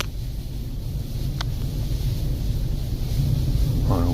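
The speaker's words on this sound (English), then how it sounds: "On a windy day," Steady wind roars and buffets across a microphone on the Lake Michigan shore by the Michigan City lighthouse on a windy day, a continuous loud rush with no voices.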